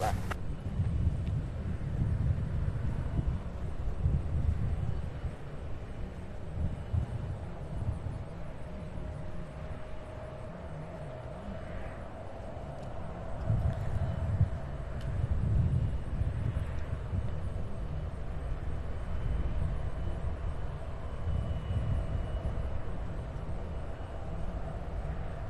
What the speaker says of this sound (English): coming in from Denver in a 737-800